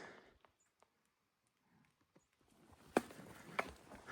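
An 8-year-old gelding walking on desert ground on a cattle ranch, sparse faint hoof clops spaced irregularly, with a couple of sharper, louder steps near the end.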